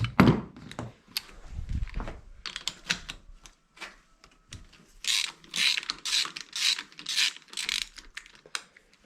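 An 18 mm socket on a ratchet wrench turns a spark plug out of a motorcycle engine, giving bursts of quick clicking pawl ratchets and metallic thunks separated by short pauses.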